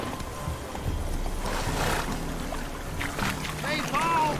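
Horse hooves clip-clop at a steady walking rhythm in The Witcher 3 as the horse is ridden through Velen, moderately near, under ongoing game noise and a voice speaking.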